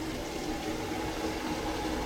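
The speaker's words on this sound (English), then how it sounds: "and dumping it in my canner." Hot water pours steadily from a gallon jug into a large canner, a constant broadband rush of splashing liquid at close range with no voices.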